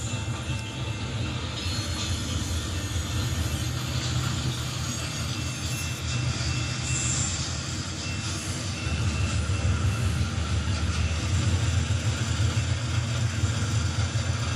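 An SD40-2 diesel locomotive runs along the track with a continuous low rumble and rolling roar that swells slightly louder in the second half, with no one talking.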